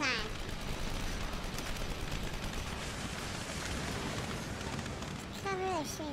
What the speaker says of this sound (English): Cover, they're shooting from above.